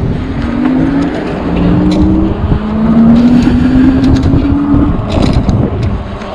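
A car drives past near an Othello Playground street in Seattle, its engine tone rising and falling as it passes close by, loud over street ambience.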